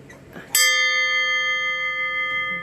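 A cleaned-up ship's bell aboard a boat is struck once, then rings out with a bright, sustained metallic tone that fades slowly and stays close and loud.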